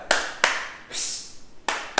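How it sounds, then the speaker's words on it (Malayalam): A special "flower rocket" hand clap for a first-class pupil brings a few sharp, close claps at irregular spacing, with a brief rushing swish between them. "എന്റെ വക 1ാം ക്ലാസ്സിൽ മക്കൾക്ക് കൊടുക്കുന്ന ഫ്ലവർ റോക്കറ്റ് ക്ലാപ്പ്"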